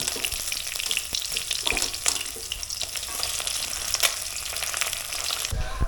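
Fish frying in hot oil produces a dense, even sizzle with scattered crackles, close by, ending in a low thump.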